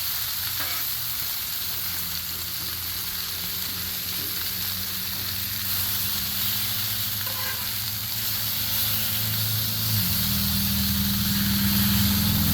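Food sizzles on a Blackstone griddle in a continuous loud hiss, with occasional spatula scrapes and a low motor-like hum underneath, no speech.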